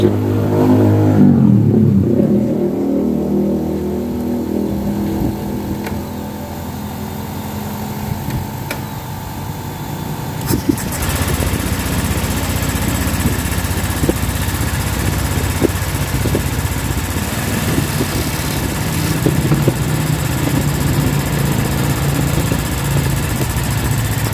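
A car engine revving up after a fitting test in a workshop, loud and close: a steady idle first, then sustained throttle and rising engine roar with no speech.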